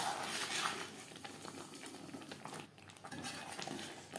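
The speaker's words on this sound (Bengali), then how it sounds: "হাই টু মিডিয়াম ফ্লেমে 3-4 মিনিট নাড়াচাড়া করে নেব।" Kohlrabi curry being stirred in a pan over a high-to-medium flame, a steady close sizzle with soft scraping and clinks of a utensil against the pan throughout.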